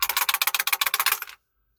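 A rattle shaken rapidly, about twenty quick clicking bursts in an even rhythm, close and bright, then abrupt silence.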